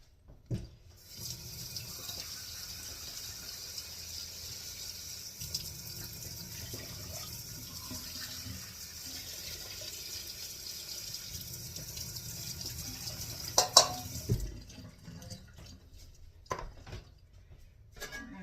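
Water runs steadily from a tap into a pot for several seconds, a constant hissing stream with some clinks of the pot, then stops near the end.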